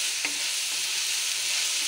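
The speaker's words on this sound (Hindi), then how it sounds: "अब हम इसमें लौकी डाल देंगे जो कद्दूकस की हुई है।" Grated bottle gourd stirred into melted sugar in a pan for halwa, a loud, continuous bright sizzle with one brief clink of a utensil near the start.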